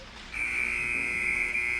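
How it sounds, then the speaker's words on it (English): An ice hockey arena buzzer ends the first period of a game, a loud, steady electronic tone that starts suddenly and holds for over a second against faint rink background noise. "that is going to sound the buzzer to end the first period"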